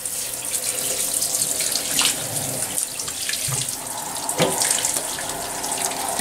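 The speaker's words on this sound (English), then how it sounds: "So if it's still warm, just add a cold water on it." A kitchen-style water tap runs steadily for several seconds, filling a basin with cold water for a dog's warm herbal bath. The close, continuous gush has small splashes and shifts in flow, and no one speaks.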